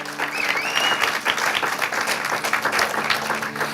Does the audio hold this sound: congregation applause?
yes